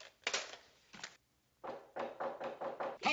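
Knocking on a front door comes as a few close, hollow raps, then a pause and a steady run of six knocks in quick, even rhythm.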